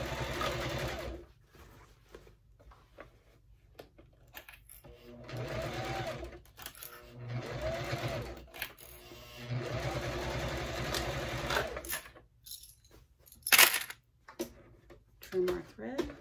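A Juki TL 2010Q sewing machine back stitches a straight quarter-inch seam on a bag, running in several loud, steady bursts separated by brief pauses, with a sharp click near the end.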